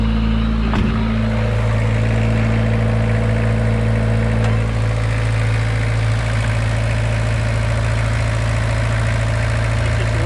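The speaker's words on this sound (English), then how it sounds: "So it's idling really high at the moment." A Suzuki Vitara's 2.1 TD engine idles high after an engine swap, a loud, steady close-up hum with strong low drone and a constant pitch, plus a couple of brief clicks early on.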